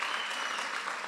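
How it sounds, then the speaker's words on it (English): Applause from wedding reception guests, a dense, steady clapping from a crowd that holds at even loudness for a brief moment. "can we just give a round of applause to the Bowden for that?"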